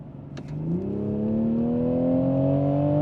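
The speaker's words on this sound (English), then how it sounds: "we're at 70 kilometers an hour right now, and I'm gonna floor it." A 2023 Toyota Supra sports car at full throttle from 70 km/h, its engine revving up and climbing steadily in pitch as it accelerates hard, a loud continuous rising drone close by.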